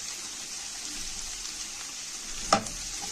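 Shawarma hits a frying pan of pasta with a steady, close sizzle, broken by a single sharp clank partway through.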